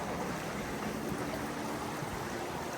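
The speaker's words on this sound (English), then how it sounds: "You can kind of hear the Chippewa Creek going in there." Chippewa Creek runs steadily with a soft, continuous rush of flowing water and small rapids along an outdoor trail, a constant broadband wash without pauses or voices.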